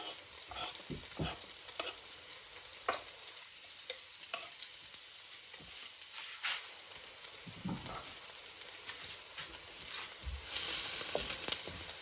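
Garlic and onion frying in a pan, a steady close sizzle with scattered stirring scrapes, swelling louder and brighter near the end.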